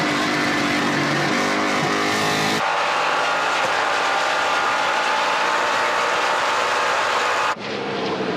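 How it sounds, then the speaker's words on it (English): NASCAR Pinty's Series stock race cars run on the throttle at a road course, a steady loud roar of engines as the cars pass. The pitch shifts midway as they accelerate, with no talk over it. "It's great to listen to these drivers on the throttle"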